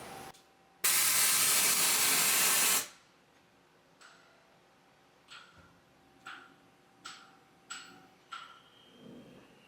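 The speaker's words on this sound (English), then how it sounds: "while we're machining with the coolant on, there's going to be a tsunami" A CNC lathe machining steel DOM tube gives a loud, steady coolant spray hiss lasting about two seconds, followed by a quieter stretch of faint, irregular ticking and tapping from the machine.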